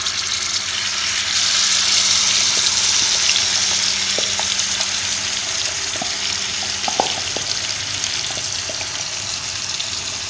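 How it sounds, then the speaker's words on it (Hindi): Marinated beef liver sizzles steadily in hot oil on a tawa, a loud continuous frying hiss with occasional small pops and clinks and no one speaking. "जब कुकिंग ऑयल गर्म हो जाए तो मैरिनेट की हुई कलेजी डालेंगे।"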